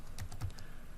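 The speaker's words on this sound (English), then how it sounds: "They're typing in" Quick burst of typing on a computer keyboard, a few close, soft key clicks in a brief run against quiet background.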